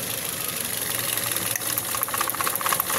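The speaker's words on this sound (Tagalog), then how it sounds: "Testing natin. Palyado pa rin." Toyota Vios 2016 third-generation engine idling rough and misfiring, a steady near mechanical drone with uneven knocking pulses and no voices.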